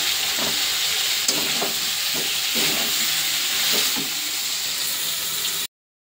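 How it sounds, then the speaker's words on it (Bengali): Garlic and ginger sizzle in a hot pan, a steady bright frying hiss broken by repeated scraping stir strokes, close and loud, ending abruptly in silence. "রসুনটা দিয়ে এখন ভালো করে ভাজবো।"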